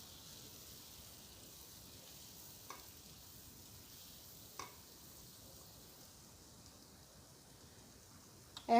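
Green and red capsicum fries in a pan, a faint steady sizzle with a few soft stirring taps and a louder clack at the end.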